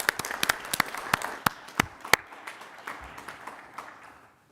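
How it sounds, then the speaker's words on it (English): Scattered applause at a school board meeting, a small group of distinct, sharp claps that start fairly strong, thin out into lighter clapping and stop at the end. "Can we have a round of applause?"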